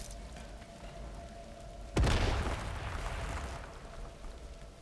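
A single grenade explosion in Atomfall, a sharp sudden blast partway through followed by a rumbling, crackling decay over a quiet ambient background.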